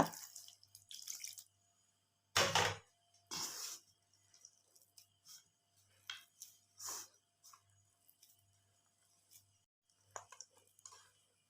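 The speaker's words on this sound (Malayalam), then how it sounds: "ഇനി നമുക്ക് കുറച്ച് വെള്ളം ഒഴിച്ച് ഇതിനെ കുഴച്ചെടുക്കാം." Quiet kitchen sounds: short bursts of water pouring and splashing into flour for kneading dough, separated by pauses, with faint clinks and handling noises.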